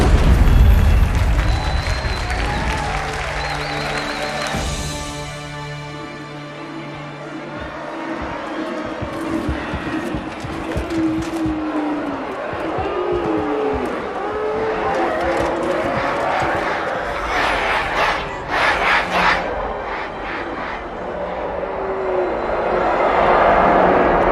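Crowd cheering during a Halo 2 cutscene, a broad roar of many voices with applause-like noise mixed with aircraft rumble and booms, rising and falling over about twenty-four seconds with speech in between.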